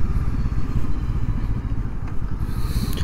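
A 2023 Honda CL500 Scrambler on mixed-tread tyres rides along with a loud, steady low engine rumble and wind noise throughout, with no pauses.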